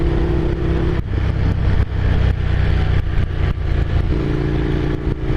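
An air-cooled 803 cc Monster-engined Scrambler motorcycle runs loud and close, a steady mid-range engine drone with low rumble and a few brief throttle changes and clattery breaks throughout.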